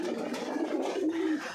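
Pigeons at a farm of mixed local, racer and Giribaz birds, soft close cooing in short, low murmuring phrases, alone.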